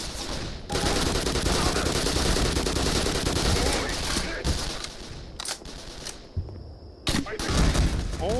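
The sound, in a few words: grenade launcher firing in the video game Half-Life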